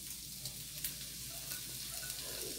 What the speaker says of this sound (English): Now let's add our cauliflower into here, into the frying pan.